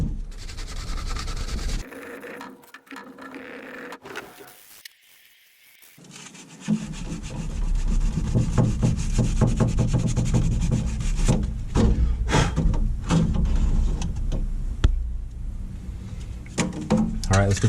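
Sandpaper rubs by hand over high spots on the body of a 1998 Honda PC800 motorcycle, a close, steady scratchy back-and-forth scraping in repeated strokes, with a brief quiet pause early on.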